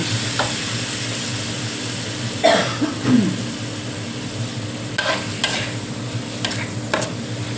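Shrimp stir-fried with chilies in a pan: a loud continuous sizzle under repeated scraping stirs, with brief clinks and a cough-like sound partway through, close and without talk.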